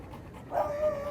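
A police explosive-detection dog, Arjun of the Kollam Rural K9 squad in Kerala, gives a short bark or yelp partway through, followed by a whining, drawn-out tone, close and moderately loud over a low background.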